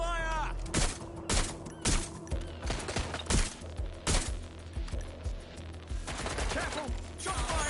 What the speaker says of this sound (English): Taking fire! Ah! Incoming fire!